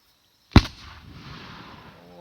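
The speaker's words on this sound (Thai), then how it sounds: "โอ้เสียงปืนสงสัยนายพรานออกไปหากิน" A hunter's gunshot rings out in rural forest countryside as one sharp crack followed by a rolling echo that fades slowly, heard alone against quiet surroundings.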